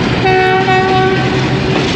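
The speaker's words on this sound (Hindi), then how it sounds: "डिपार्चर विसल दे के और फिर मूव होना शुरू हुई है ट्रेन" Ravi Express passenger train departing Shahdara Bagh Junction in Pakistan, a loud close horn blast with a strong steady tone that cuts off about halfway, over a rumbling rail background.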